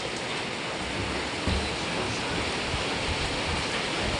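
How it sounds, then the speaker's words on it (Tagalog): Strong wind during rain roars steadily throughout, a dense broadband rush with a slight gust near the middle, no voices. "Ayan, lakas ng hangin."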